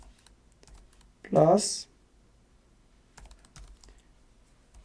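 Keys on a computer keyboard tap out a math entry in a few light, quick clicks, faint and close, after a short spoken word.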